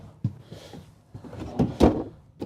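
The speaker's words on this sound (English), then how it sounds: "fairly deep pull-out drawers." A pull-out drawer in a Renegade Valencia 38BB Super C motorhome slides out with a short rumbling glide, followed by a couple of soft thuds and knocks nearby.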